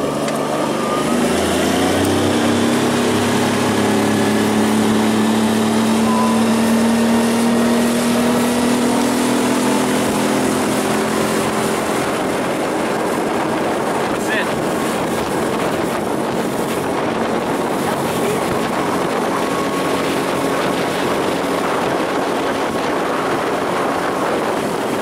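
Vehicle engine warming up while driving around, a steady loud drone whose pitch climbs at the start, then holds under heavy wind buffeting on the microphone, with no talk.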